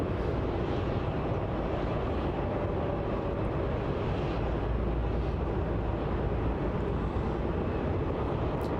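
Velocity airliner at Melbourne Airport, heard as a continuous broad jet roar that holds loud and steady throughout with no voices over it.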